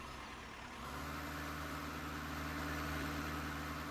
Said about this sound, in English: it sounds like the tractor's revving pretty hard, but it should still have enough power to pull it along